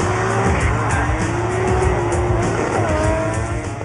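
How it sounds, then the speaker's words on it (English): A heavily modified drift race car runs at a drift event, its engine a loud steady roar throughout with tires squealing in long pitched streaks over the top. "drives this car in drift races for motor team Japspeed"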